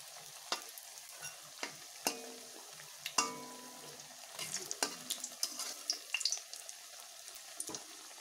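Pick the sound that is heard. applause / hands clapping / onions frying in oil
onions frying in oil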